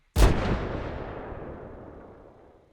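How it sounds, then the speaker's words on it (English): A single loud shotgun blast from a WWII-era firearms sound library, a sharp close report followed by a long rumbling tail that fades out over about two and a half seconds. "Here's the shotgun."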